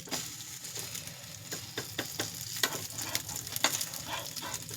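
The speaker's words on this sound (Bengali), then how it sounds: "এবারে তেলটাকে আস্তে আস্তে দিতে থাকি, খুব একটা তেল লাগবে না ফ্রাইতে" A large paratha sizzles in a pan as oil is added bit by bit. The frying is soft and steady, with small crackles and pops spread through it.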